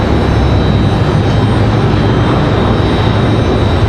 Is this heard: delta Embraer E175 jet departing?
yes